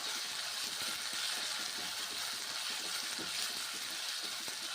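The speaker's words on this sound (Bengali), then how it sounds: "মশলা এখন ভেজে নেব, মশলাটা কষে নেব।" Spices frying in hot oil in a kadai, added after cumin and peanuts for lau masoor dal, give off a steady, even sizzle that holds close and continuous throughout.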